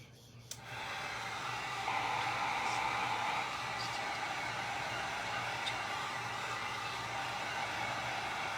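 A hair dryer blows steadily at close range with a constant rushing whir, starting after a short click and running unbroken to the end.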